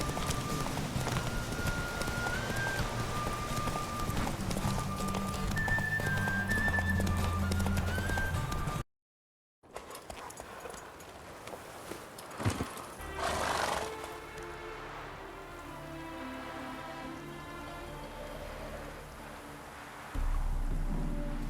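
Video-game horse in The Witcher 3 gallops through a race with quick, rhythmic hoofbeats and loud whinnies over game music. After a short silent break, the galloping and neighing return more faintly under the score.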